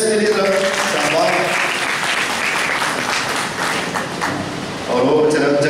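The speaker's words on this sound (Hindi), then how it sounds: "तालियां बजा दे इसके लिए सर, शाबाश" Congregation clapping for a small child during Sunday Holy Mass at St. Elizabeth Parish, Hyderabad; loud, dense applause filling the space, with a voice speaking over it at the start and end.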